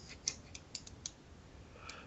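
Faint, sparse clicks of keys being struck on a computer keyboard, irregular and close, in a quiet room with no talking.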